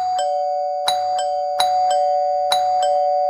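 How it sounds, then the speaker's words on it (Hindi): A two-tone ding-dong doorbell chimes three times in a steady rhythm over a constant electronic hum in an animated cartoon, loud and close with no talking. "घंटी बजा बजा के परेशान कर दिया है।"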